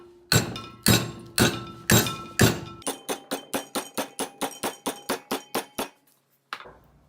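Steady hammer blows ring out on metal held in a vise while it is bent into a custom removable core support for a Nissan S13 with a 1JZ engine: five heavy strikes, then about a dozen quicker, lighter ones, close and sharp.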